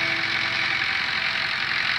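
A Massey Ferguson 245 DI tractor's SJ327 diesel engine idles steadily, a continuous close mechanical rumble with a constant hum and no break throughout.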